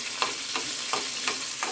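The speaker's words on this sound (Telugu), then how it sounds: "ఇక్కడైతే నేను జీలకర్ర పచ్చిమిర్చి 2 వేయిస్తున్నా." Cumin and green chillies fry in a pan with a steady close sizzle, punctuated by a regular rhythm of about five stirring scrapes, with no talk.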